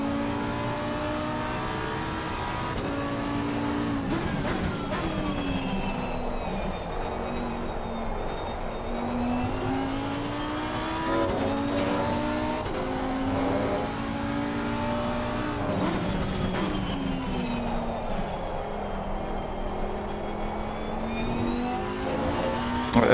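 A GT race car laps a winding circuit in Assetto Corsa Competizione during the 2023 GT World Challenge, its engine droning loud and close, rising and falling through gear shifts and repeated revs, heard alone without talking.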